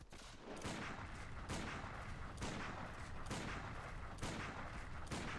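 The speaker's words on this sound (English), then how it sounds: "I think I just want to start shooting you" Boom Driver weapon fire in Bloodborne: loud, dense bursts of gunshots repeating roughly every second, blasting continuously with no pauses for the full stretch.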